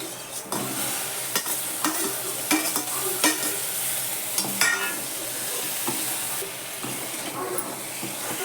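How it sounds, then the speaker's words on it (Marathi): Drumstick pods being stir-fried in a pan: a steady sizzle runs throughout, punctuated by repeated scraping and clattering strokes of a spoon against the pan, close and without any talking. "मी आधी शेंग चांगली परतून घेते"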